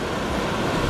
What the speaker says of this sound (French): les vagues s'engouffrent et après et ça ressort et du coup c'est comme si on les soufflait